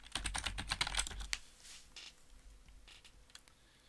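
Rapid bursts of typing on a computer keyboard during a Chinese-language speed test: a fast run of crisp key clicks, then sparser, quieter taps trailing off.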